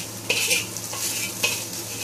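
Nasi goreng sizzles steadily in a pan while a spatula scrapes and breaks it up, with a few sharper scraping strokes over the continuous frying hiss.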